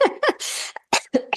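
A person nearby gives a quick burst of harsh, breathy coughs, several short hacks in a row with a throaty rasp.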